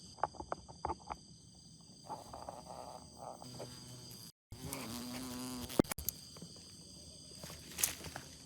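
A wasp buzzes intermittently close by amid scattered footsteps and small clicks, with a steady high electrical whine underneath and a brief dropout midway.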